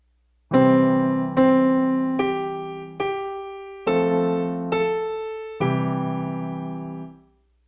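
Piano chords played one after another, six sustained strikes forming two short phrases, each ringing out before the next, ending with a longer held chord.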